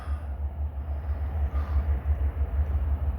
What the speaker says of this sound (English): I don't know what type of train we got.